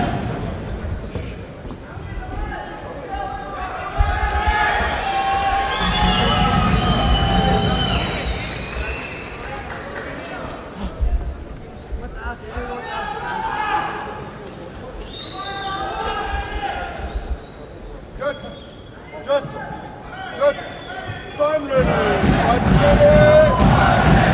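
An arena crowd at an M-1 Challenge MMA event swells into loud cheering and shouting in waves, with an announcer's voice talking over it and the noise surging again near the end.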